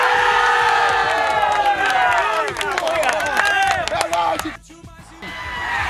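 Fans at a municipal Série B championship final celebrate Laje do Curral's win with loud, steady cheering, shouting and whistles that ring out close and then drop off abruptly near the end.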